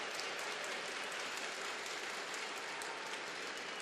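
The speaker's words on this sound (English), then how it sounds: "Nice round of applause for the youngsters doing their stuff." Steady applause from a crowd at a women's world curling championship semi-final, a dense even patter of clapping that holds at a moderate, slightly distant level throughout with no voices.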